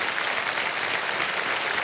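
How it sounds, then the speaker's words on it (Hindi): Studio audience on the KBC quiz show applauds a contestant who has just quit with 12.5 lakh rupees in winnings: dense, steady clapping that fills the hall for about two seconds. "ताली बजती रहे इनके लिए"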